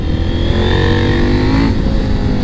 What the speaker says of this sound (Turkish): bu motorun sahibi tahminen alt kolektörü sökmüş. O yüzden ses biraz daha vahşi çıkıyor.